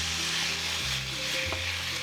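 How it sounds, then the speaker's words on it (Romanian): Chicken pieces frying over high heat in a pan while being stirred with a spoon to break them apart, a close, steady crackling sizzle with faint scraping shifts as the pieces are moved. "gătim puiul pentru 5-7 minute sau până începe să se rumenească. Gătirea se face la foc mare."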